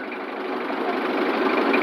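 A fishing trawler's engine drones steadily on the water of a wetland haor, a continuous mid-pitched rumble that grows slightly louder across the short stretch.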